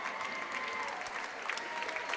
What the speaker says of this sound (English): a big hand for the crowd